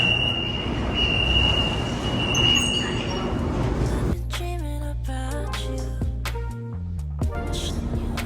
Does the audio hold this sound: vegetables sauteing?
no